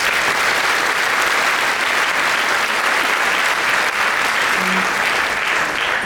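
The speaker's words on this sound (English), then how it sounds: "So let's have a round of applause for our honored guests." Loud sustained applause from a crowd honoring guests at a graduation ceremony, dense steady clapping filling the whole stretch.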